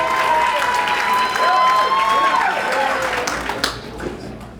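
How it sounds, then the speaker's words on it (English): Applause from a dinner audience fills the room, steady and loud, with a few whoops and cheers rising over the clapping before it thins out near the end. "So please, a round of applause for yourselves and for Ed"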